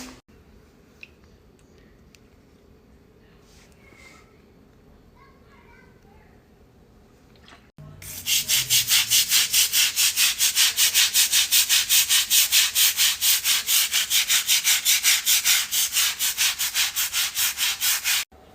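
A surface is scrubbed with a cleaning product; after a quiet start, loud rhythmic brushing strokes begin about halfway through and repeat in a fast, even back-and-forth pattern until the end.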